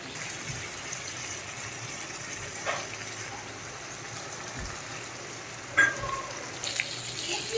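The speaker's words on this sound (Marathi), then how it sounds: "आता हे आपल्याला पूर्ण हाय फ्लेमवर चार ते पाच मिनिट खालची बाजू पूर्ण आपल्याला शिजवून घ्यायची" Chicken fries on a tawa over a high flame, giving a soft, steady sizzle with a few faint clicks and pops.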